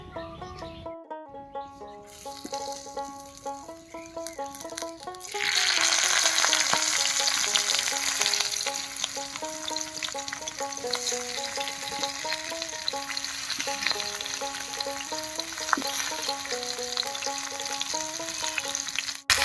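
Malabar spinach leaves hit warm mustard oil in a pan, a steady bright sizzle that jumps louder after a few seconds and keeps crackling evenly, with faint tonal background music underneath.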